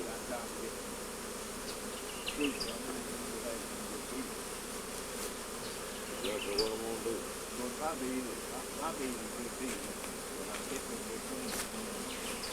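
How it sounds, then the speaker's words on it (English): Steady buzzing of many honeybees at a hive, including drone bees, a dense continuous drone filling the whole stretch, with occasional louder insects passing close by. "This is a drone bee"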